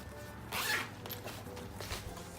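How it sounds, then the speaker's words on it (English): A zipper on the front pocket of a JuJuBe XY Hatch backpack gives one quick, loud zip near the start, followed by softer rustling and a second, fainter zip-like scrape. "You've got a zipper pocket there at the front too, Michael."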